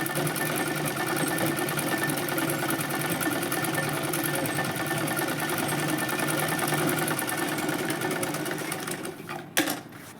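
A sewing machine runs steadily, stitching a wavy lehriya-style wave stitch in a fast continuous whir, close and fairly loud, before stopping abruptly near the end with a brief clunk.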